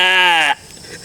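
A person imitates a goat's bleat outdoors in a forest, giving a single loud, nasal, drawn-out 'baa' about half a second long that cuts off abruptly, followed by quiet.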